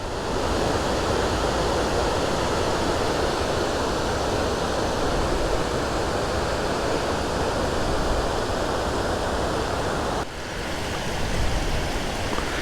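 Water rushes loudly and steadily over a dam beside a plant, a continuous broadband roar that holds unbroken with only a brief dip near the end.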